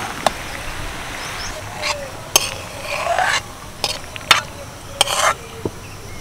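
Pasta being stirred in a cooking pan, with scraping and clattering strokes at irregular intervals over a soft sizzle, fairly close.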